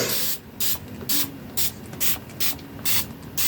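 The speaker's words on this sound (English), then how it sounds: "I'm going to spray through it and see just what happens." Seven short, bright hissing bursts from a Distress Oxide ink spray bottle, evenly spaced in a quick rhythm, close by with no talking.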